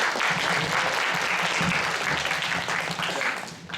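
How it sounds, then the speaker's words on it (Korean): Audience at a college health administration department ceremony applauding a professor, a full steady round of clapping that fades slightly at the end. "이동희 교수님께 다시 한번 큰 박수 부탁드립니다"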